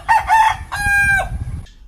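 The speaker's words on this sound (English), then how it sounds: "So cock-a-doodle-doo. In English, cock-a-doodle-doo." A rooster crows loudly and close, alone with no talk, in a drawn-out two-part cock-a-doodle-doo with a bright tonal call that rises, holds and then fades.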